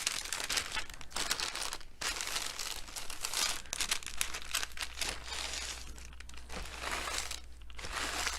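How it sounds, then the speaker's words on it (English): Parchment paper, used while making a daisy wreath craft, crinkles and crackles up close in continuous bursts with brief pauses, loud and alone without talking. "Just going to use this parchment paper."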